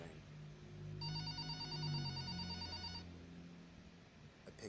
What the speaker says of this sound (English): phone on the counter rang.